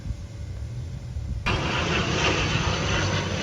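A propeller plane drones overhead as a steady, far-off hum, and a louder broadband rush suddenly swells in partway through and stays.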